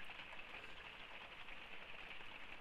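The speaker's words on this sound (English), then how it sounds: "To a rainy morning." Light morning rain in the Idaho Panhandle, a faint, steady hiss of drops pattering on surfaces, quiet and even throughout with no voices.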